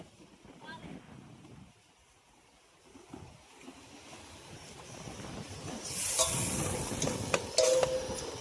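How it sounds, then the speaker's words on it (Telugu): Spinach juice fries and gets stirred in a pan while cooking at a campsite, a soft sizzle and scraping that swells louder toward the end, with outdoor wind noise and voices talking over it. "ఈ పాలకూర జ్యూస్ అనేది బాగా పచ్చివాసన పోయేంత వరకు ఫ్రై చేసుకోవాలి"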